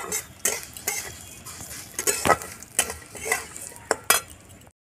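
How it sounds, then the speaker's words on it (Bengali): Broken cashews stirred into vermicelli frying in a pan, with a spoon scraping and clinking against the metal in irregular strokes over a soft sizzle, close and clear, with no voices. "এবার কাজু বাদামগুলো দিয়ে দেবো ভেঙে রাখা।"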